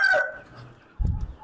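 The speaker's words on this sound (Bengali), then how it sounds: "এই শেডে টাইগার আর দেশি মুরগি আপাতত একসাথে রাখছি।" Tiger and desi chickens kept together in a commercial poultry farm shed: a rooster's crow trails off at the start, then a short burst of close, throaty clucking follows after a quiet gap.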